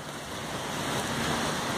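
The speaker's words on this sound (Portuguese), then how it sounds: "Vento forte, estou debaixo de uma tenda aqui." Strong wind roaring and buffeting the microphone outdoors after a rainstorm in a town square in Paranavaí, a loud continuous rushing with no talk.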